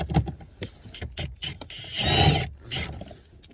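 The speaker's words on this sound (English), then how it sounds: "there's a screw right here and a screw right there. You just use this 9/32 socket" A 9/32 socket wrench works out glove box screws in an 08+ Chevy Cruze, scattered close clicks and rattles with a brief louder scrape in the middle, fairly quiet.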